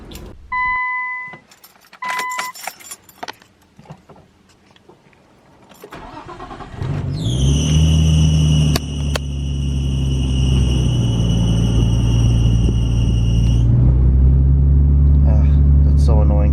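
A 2020 BMW Supra is started after keys jangle, the engine catching with a sharp whine and settling into a loud, steady idle rumble that holds close by as a person talks earlier.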